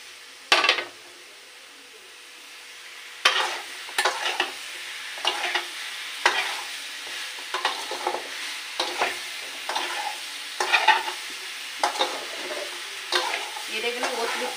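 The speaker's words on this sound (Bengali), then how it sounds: "এটাকে এইভাবে কষাবো।" Ridge gourd and shrimp being stir-fried in oil in a pan, with a steady sizzle and a series of regular scraping stirs of a utensil against the pan, close and moderately loud, with no talk.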